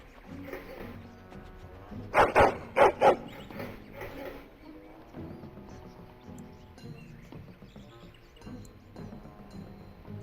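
A dog in the video game Dragon Age: Origins gives a quick run of about four loud barks near the middle, set against a steady game music and ambience bed.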